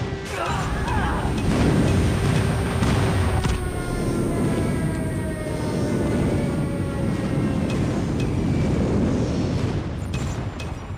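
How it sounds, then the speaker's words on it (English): A friendly airstrike in Call of Duty Mobile produces a dense, continuous roar of explosions and rumbling blasts with tonal game sounds layered above, sustained loudly throughout. "Friendly airstrike incoming."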